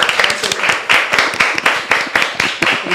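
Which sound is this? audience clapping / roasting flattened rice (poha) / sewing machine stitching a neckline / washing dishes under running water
audience clapping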